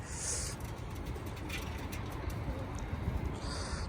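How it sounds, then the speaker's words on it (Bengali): Pigeons coo softly in a Moscow park, faint low calls set against a steady wash of outdoor background noise, with no talking over them. "ওরা আসে কিন্তু খায় দেখেন কবুতর"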